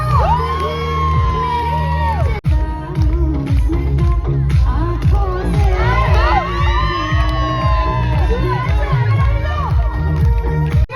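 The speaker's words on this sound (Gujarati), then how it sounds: "ઓડિયન્સ તાળી અને બૂમો પાડો." A wedding audience at a haldi ceremony shouts, whoops and cheers loudly and continuously, a dense crowd of voices with children's yells rising over a steady busy background.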